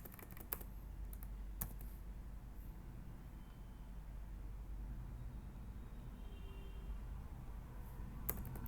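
Steady computer-keyboard typing while coding, a fast continuous patter of close, quiet keystrokes with a couple of sharper clicks, running alone without talk over low room hum.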